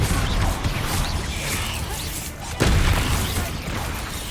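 The Bombarda explosive spell cast in the wizarding game Hogwarts Legacy, a dense rumbling din with a sudden sharp blast just past halfway, followed by louder crashing.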